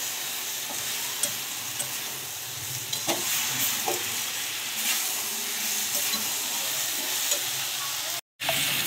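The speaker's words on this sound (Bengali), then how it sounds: "আরও 2-1 মিনিট এরকম করে ভাজতে থাকবো।" Cabbage frying in a pan for a cabbage ghonto, a steady broadband sizzle throughout with occasional stirring scrapes, close and fairly loud, with no talk.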